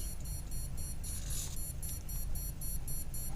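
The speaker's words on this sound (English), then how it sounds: "Constant beeping" Steady, evenly spaced high electronic beeps from a faulty 60-amp YEP electronic speed controller repeat over a low background hum, continuing without pause.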